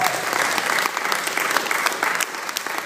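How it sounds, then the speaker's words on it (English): A comedy club audience applauding stand-up comics, dense continuous clapping that stays loud and steady throughout. "Give them a round of applause for these people."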